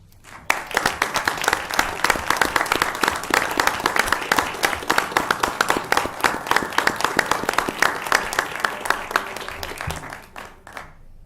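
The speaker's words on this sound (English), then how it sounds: "I think that that's entitled to a round of applause." A crowd at a city council meeting breaks into sustained applause, dense clapping from many hands that holds steady for several seconds before tapering off near the end.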